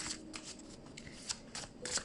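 Cards are drawn from a deck in quick, close, soft papery flicks and slides, repeating several times in about two seconds, with no talk.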